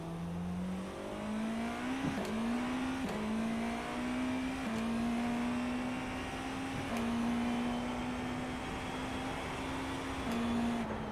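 A GTP prototype race car on new 2026 tyres in the iRacing simulator, engine droning steadily with repeated gear shifts, each one a brief drop before the pitch climbs again, loud and continuous with no talk.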